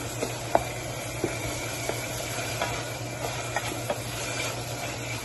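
Tomatoes and onions sizzle steadily in a pan with a constant frying hiss, broken by a few light clicks of stirring, and no voices.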